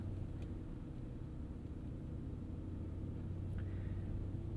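A 2013 Chevrolet Avalanche with the 5.3L V8 drives out of a park, its engine and road noise forming a steady low cabin rumble, with a couple of faint ticks on top and no voices.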